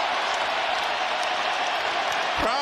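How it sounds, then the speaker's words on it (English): A basketball arena crowd gives a dense, steady roar of cheering and applause close up, with a brief whoop near the end and talk mixed underneath. "Crowd in a frenzy"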